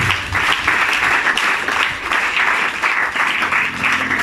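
A church congregation applauds in sustained, dense clapping that fills the room, loud and steady throughout with no pauses.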